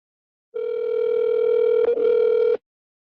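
A steady phone dial tone heard during an outgoing call, loud and alone, holding for about two seconds with one brief break before it stops.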